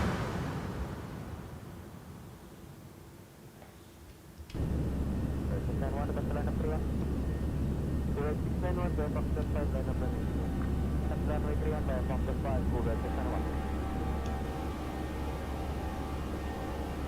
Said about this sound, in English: I'm going to let the aircraft accelerate a little bit here.